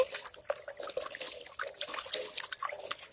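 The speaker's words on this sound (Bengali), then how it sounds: "এবার ভালো করে সুন্দর করে ধুয়ে নিচ্ছি" Jujube fruits, half ripe and half raw, washed in clean running water, with steady faint splashing and trickling, scattered drips and small knocks of fruit under the stream.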